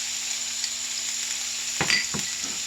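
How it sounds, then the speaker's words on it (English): Onions, green peppers and celery sautéing in a pan, a constant close sizzle with a steady hum beneath, then a couple of short stirring scrapes near the end, no talking. "green peppers, onions and celery, and green peppers. And we're going to saute that."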